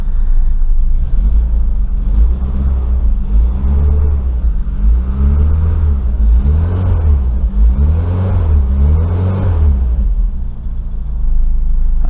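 Austin Maxi engine fired up and running steadily, a loud, close low rumble with repeated revs rising and falling in rhythmic swells, no talking over it.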